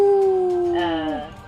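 Dire wolves howl in a Dungeons & Dragons scene: a loud, close, sustained howl that slides slowly downward, with a second voice joining before it trails off.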